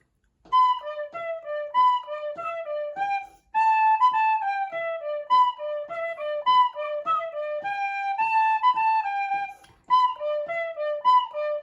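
A tin whistle runs through the Kerry Polka at full speed, bright and close, notes tumbling quickly with brief pauses between phrases.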